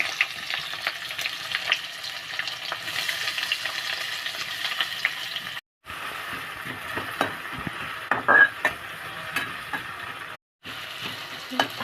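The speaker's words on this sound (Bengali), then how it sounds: "হালকা ফ্রাই করে নিতে হবে পেঁয়াজটাকে" Chopped onion with bay leaves frying in oil in a kadai, a close steady sizzle with scraping stirs and an occasional light clink of utensils, broken by two short silent gaps.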